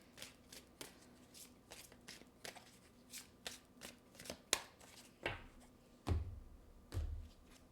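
Angel oracle cards are shuffled by hand in a quiet room, a steady run of soft riffling slaps and flicks, followed by a few heavier thumps as the deck is handled; no voices.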